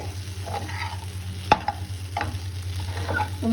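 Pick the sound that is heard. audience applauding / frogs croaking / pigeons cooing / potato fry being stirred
potato fry being stirred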